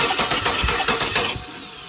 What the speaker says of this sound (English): I'm gonna put a starter switch on there and turn it over and see what happens